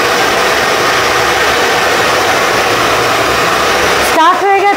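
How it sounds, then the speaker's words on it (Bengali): A hair dryer runs at full blast during a salon blow-dry after a hair wash: a loud, close, steady whooshing roar that cuts off near the end, after which a voice speaks. "স্টার্ট হয়ে গেছে আমাদের ব্লো ড্রাই। এখন আমাদের পুরোটা ড্রায়ার দিয়ে ড্রাই করা হবে"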